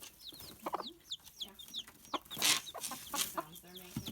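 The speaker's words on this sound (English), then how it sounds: "The hens are making a piping sound trying to call their chicks" Broody hens give soft, repeated piping and clucking calls to chicks, faint and close, with occasional scratchy rustling between the calls.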